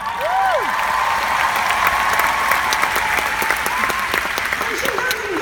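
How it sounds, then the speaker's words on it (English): Loud theatre audience applause at a comedy talk, with many hands clapping in a steady roar and a few cheers and whoops rising above it from near and far. "Round of applause for adoption."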